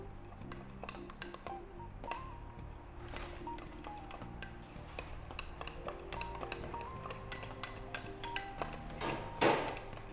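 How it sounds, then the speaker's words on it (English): A metal spoon stirs instant coffee and unsweetened chocolate powder in a glass, giving quiet repeated clinks and taps against the sides, soft and close, with a brief louder scrape near the end. "Give it a good stir."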